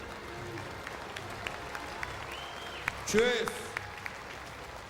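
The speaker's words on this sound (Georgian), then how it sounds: "აპლოდისმენტები." Audience applause at a Georgian televised talent show semifinal, a steady wash of clapping running beneath someone speaking into a microphone, swelling briefly near the middle.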